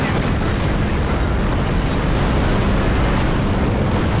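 B-4 howitzers in Company of Heroes 2 pound away in a dense, loud, continuous barrage of booming artillery blasts that blur into one heavy roar, with no voices over it.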